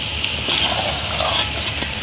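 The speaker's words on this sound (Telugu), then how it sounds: "కొంచెం నీళ్ళు వేసుకుందాం" Water splashes and gushes as it is poured into a pan of crab curry mixed with cashew paste, giving a short, close, bubbling pour.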